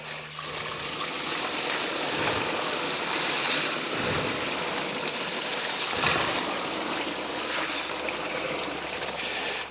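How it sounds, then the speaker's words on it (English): Tumbled rocks rinsed under running water make a steady rushing splash for nearly ten seconds, with faint clatter and shifts in the flow as the stones are moved about. "Let's wash these off."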